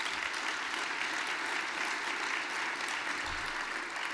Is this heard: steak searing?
no